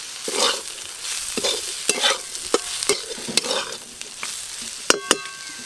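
Ivy gourd frying in a pan with cumin powder, stirred with a spatula: repeated clacking scrapes every half second or so over a soft steady sizzle, close and alone.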